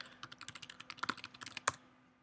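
Rapid keystrokes on a computer keyboard, a steady run of close, crisp clicks with a couple of heavier key presses near the end, then quiet.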